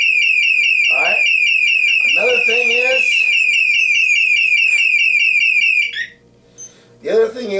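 A Scorpio I600i motorcycle alarm, set off by its ignition sensor when the key is turned on, blares a loud, steady warbling electronic tone close by, with someone talking over it before it cuts out and he keeps speaking.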